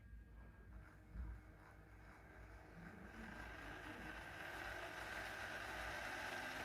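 Model locomotive wheels spin against a Peco PL-42 wheel cleaning brush, a faint motor whir that climbs into a rising steady whine and grows gradually louder over a few seconds.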